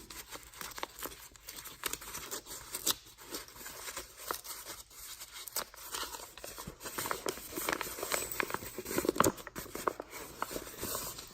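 A paper bag being peeled open by hand, with quiet, uneven crinkling and tearing rustles scattered through the whole stretch, close and soft, with no speech.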